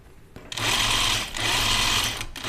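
A sewing machine stitches dress seams at close range in two steady, loud runs of whirring stitches separated by a brief pause.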